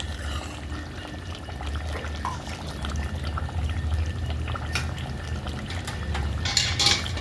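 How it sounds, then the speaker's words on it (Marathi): Hot water pours steadily into a pot of chicken curry with a low gurgling rush, fairly quiet, ending with a brief clink of metal. "आता आपण गरम पाणी करून टाकून घेऊया"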